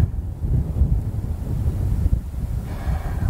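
Heavy wind blows across a long-range rifle shooting range, a continuous low rushing and buffeting against the microphone that swells and eases throughout, with no voices.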